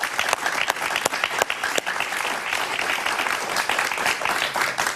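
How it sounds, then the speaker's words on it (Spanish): Sustained applause from a studio audience during a television talk show, a dense, steady wash of many hands clapping at once, with a few sharper individual claps standing out near the start. "Un aplauso para Erwin Hoyos, por favor."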